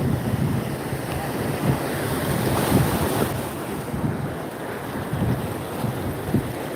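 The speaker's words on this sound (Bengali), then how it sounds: "সমুদ্র সৈকতে কিন্তু ধীরে ধীরে জল বাড়ছে আপনারা দেখতে পাচ্ছেন" Waves at Digha Mohona beach roll in with the rising tide, a continuous roar of surf mixed with heavy wind buffeting the microphone.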